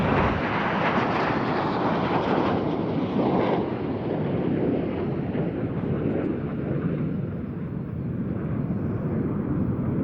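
Red Arrows jets flying the rollbacks manoeuvre at an air show, a loud, sustained broadband jet roar with wind buffeting that fills the whole stretch without letting up.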